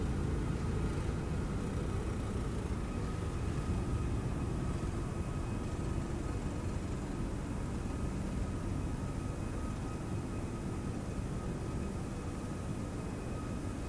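An airliner climbs out just after takeoff in a flight simulator, on a leg from Bangkok to Dubai, its steady broadband engine roar holding loud and continuous throughout with no voices.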